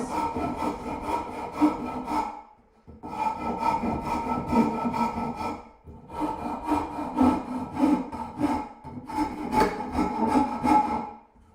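Hand woodcarving tools shaping a three-dimensional wooden form at a desk, heard as four long, close rasping scrapes separated by brief pauses, with no talking.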